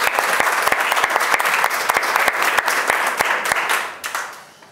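An audience at a novel presentation and poetry reading bursts into dense, sustained applause, loud and close, many hands clapping together before the sound begins to fade at the end.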